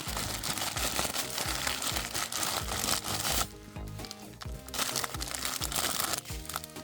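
Plastic crinkles and crunches loudly and continuously, close up, with a brief quieter pause partway through before the rustling resumes.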